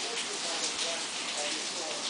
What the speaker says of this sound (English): It's been raining for days.